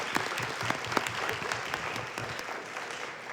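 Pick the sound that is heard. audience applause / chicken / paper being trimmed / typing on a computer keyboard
audience applause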